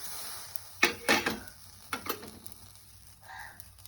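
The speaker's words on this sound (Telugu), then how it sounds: "పల్లీలు వేయించుకోవాలండి, కొన్ని ధనియాలు కూడా వేసుకొని వేయించుకోవాలి." Peanuts and coriander seeds roast dry in a pan for a masala curry, with a few scraping stirs and clinks against the metal over a low sizzle.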